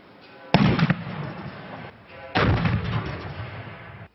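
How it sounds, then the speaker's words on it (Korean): A frozen butane gas canister, dropped into hot water, bursts with two loud, sharp bangs about two seconds apart, each followed by a roaring rumble that trails off. No voices are heard. "추운 곳에 놓아둔 부탄가스통을 뜨거운 물에 담갔습니다. 불과 2분도 안 돼 굉음을 내며 폭발합니다."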